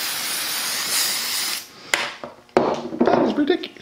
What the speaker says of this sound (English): And then you just hit this whole thing with mold release.